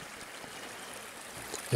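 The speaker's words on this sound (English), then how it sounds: "I'm standing right here by the creek" A high-elevation mountain creek around 8,200 feet, with snow still on the ground, flows with a steady soft rush and trickle, close by and fairly quiet, ending in a brief louder burst.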